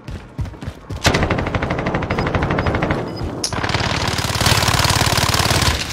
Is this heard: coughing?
no